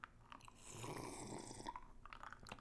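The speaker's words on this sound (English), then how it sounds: "I put too much ice in here because now you're just gonna get slurping noises." Straw slurping at the bottom of a drink packed with too much ice, a quiet sustained gurgling rasp with short rattling bits around it, close and faint.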